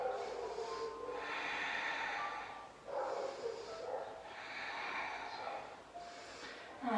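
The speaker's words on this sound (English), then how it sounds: "Couple of deep breaths here." Slow, deep breaths held in a yoga plank position, a steady cycle of airy inhales and exhales, close and fairly quiet, with no talking.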